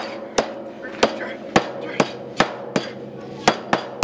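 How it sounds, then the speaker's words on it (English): Hammer blows on a hard surface while putting out a small fire, about ten sharp, evenly spaced strikes close by and loud. "I put a fire out with a hammer."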